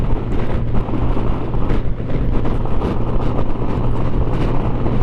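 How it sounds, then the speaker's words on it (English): Wind rushing past a rider on a Kawasaki motorcycle running without its Freedom Performance slip-on exhausts, a constant loud buffeting roar with low engine drone underneath, no talk. "without my Kawasaki Freedom Performance slip-ons, it's a lot quieter. I can actually hear the wind"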